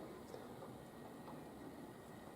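Small 00 gauge model passenger train pulled by a tank engine, a couple of lightly weathered suburban coaches in tow, rumbling steadily and evenly across the track with no speech.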